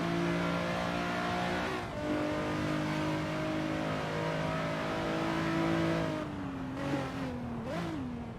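GTS race cars lap Daytona in a racing video game, engines droning in a steady high whine that drops as a gear changes partway through, then climbs and wavers again near the end.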